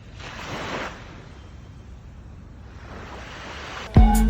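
Sea waves wash in and out in two broad surges with a steady roar between them, ending with a sudden loud bump close to the microphone.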